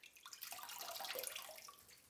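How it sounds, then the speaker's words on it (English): Water running over raw chicken as it is rinsed for soup, a soft, steady splashing flow from a tap, faint and close, with no talk. "you just basically want to rinse it in water and drain it"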